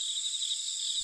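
Crickets trill in a continuous high, even chirr on a dirt village road at night, faint and alone with no other sounds.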